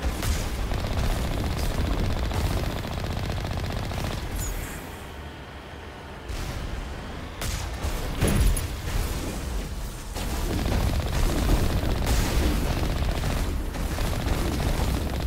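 Rapid machine-gun fire from turrets in the Mass Effect Legendary Edition sci-fi shooter, dense bursts and booming impacts rolling almost continuously, loud and close, with a brief lull midway before the barrage resumes.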